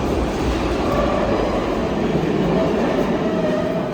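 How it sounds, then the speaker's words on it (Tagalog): Old train rolling past close by in Tashkent, Uzbekistan, a loud steady rumble with continuous rail noise and no talk. "this one, the old train."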